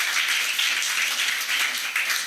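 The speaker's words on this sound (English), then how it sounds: "applause for the contestant" An audience claps for a contestant at an international spelling competition, a dense, even patter of many hands that holds steady with no talk.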